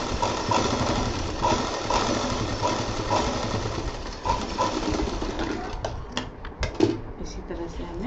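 A sewing machine stitching a bag belt, its motor running in a steady fast rattle throughout with a few brief knocks near the end and a voice talking over it.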